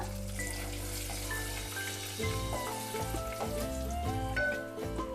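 Turmeric sizzling in hot oil in a pan for a ridge gourd yogurt chutney, a steady close frying hiss with bright crackles and pops, alone without talk.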